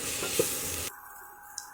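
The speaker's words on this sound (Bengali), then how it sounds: "এরপর বেগুনগুলো দিয়ে টমেটোগুলোর সাথে আমি একটু ভেজে নেব" Eggplant and tomato pieces fry in a pan, starting with a loud, dense sizzle that drops sharply to a quieter hiss partway through, with a couple of small clicks of stirring.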